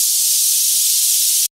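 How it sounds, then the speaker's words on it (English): A white noise effect in an FL Studio bass house drop, a steady bright hiss with automated volume and pitch, held loud and constant for about one and a half seconds before cutting off abruptly to silence. "Add some white noise."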